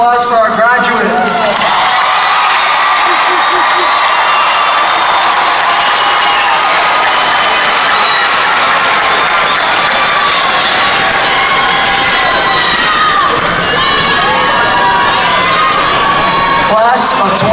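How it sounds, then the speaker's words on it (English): A large crowd at a high school graduation claps, cheers and shouts for the graduates, loud and continuous, with excited voices and whoops rising throughout. "Please join me in another round of applause for our graduates."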